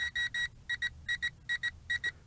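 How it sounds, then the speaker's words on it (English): A Potensic D58 FPV drone beeps rapidly in quick pairs, sharp and high-pitched, repeating steadily over a low rumbling background hum. "the beeping got really quick now"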